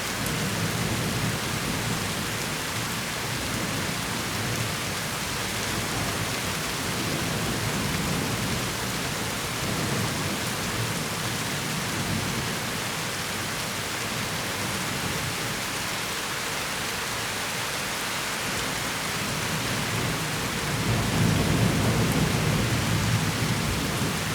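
Heavy rain pours steadily through a thunderstorm in the Pyrénées-Atlantiques, Basque Country, with a dense constant hiss and a soft low rumble of thunder near the end, no voices.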